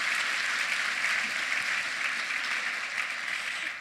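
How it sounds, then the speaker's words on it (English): An audience at a keynote talk breaks into a big round of applause, a dense and even wash of many clapping hands that holds steady throughout and fades slightly at the end. "would you give him a big round of applause"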